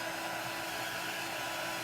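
A hair dryer blows on wet paint on a rustic Halloween sign, a steady close whooshing roar that stays constant throughout with no talking.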